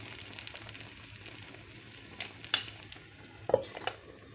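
Soft, steady crackling of a banana cake frying in a covered pan over medium heat, with a few louder pops and clinks of utensils near the end.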